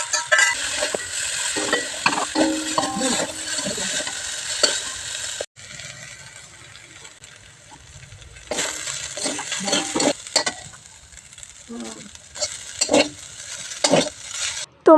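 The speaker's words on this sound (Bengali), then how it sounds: "ডিম ভাজি করা হয়ে গেলে লঙ্কা, পেঁয়াজ, টমেটোগুলো তেলে ভেজে নেব।" Onion, chilli and tomato fry in oil in a wok, bursts of bright sizzling and spatula scraping separated by a quieter lull, close and uneven with clinking metal taps.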